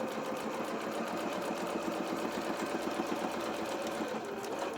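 A sewing machine stitches fabric in front of the presser foot with a fast, even mechanical chatter that runs steadily and close throughout.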